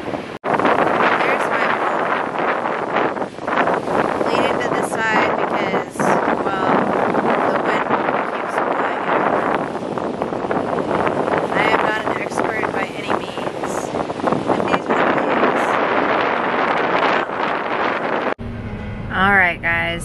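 Strong, cold wind buffets the microphone in loud, continuous roaring gusts outdoors at a kite-flying outing, with a voice talking underneath the rumble.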